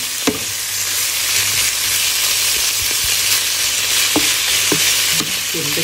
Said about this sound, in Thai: ผัดไปเรื่อยๆจ้า สีสันคุณมหากำลังการงานผัดเครื่องใน